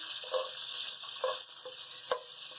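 Ginger and garlic with curry leaves frying in a hot pan, a constant soft sizzle broken by a few brief spoon knocks and stirs.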